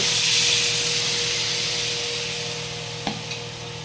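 Water added to frying Kashmiri chilli masala in a pan for a fish-head soybean curry: a loud, hissing sizzle that gradually fades, with a brief utensil knock near the end.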